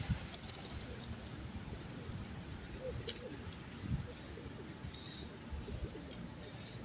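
Hundreds of pigeons in Dhira, Saudi Arabia, coo in a low, continuous murmur of overlapping calls, faint and close, with occasional wing flutters.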